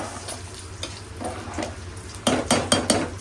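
Rice stirred from bottom to top in a pot for coconut milk chicken biryani, soft scraping of a spoon against metal that ends in a few louder clanks and knocks, close by.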